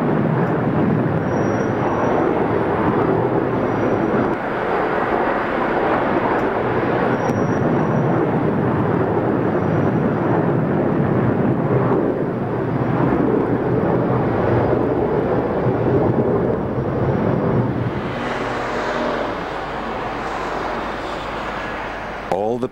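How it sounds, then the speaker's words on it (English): An airliner comes in to land near a perimeter fence, a loud, continuous, rumbling roar with a shift in tone toward the end. "Four attempts later, bringing the plane in within feet of the perimeter fence,"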